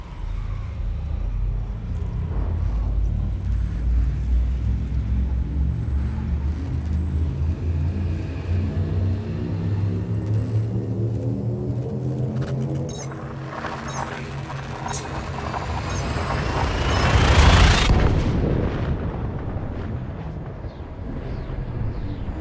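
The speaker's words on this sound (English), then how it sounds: "Shift drive charging." A frame shift drive charging and jumping in the space game Elite Dangerous: a low rumbling whine climbs steadily in pitch for many seconds, swells to a loud rushing peak, then cuts off abruptly into a quieter hum.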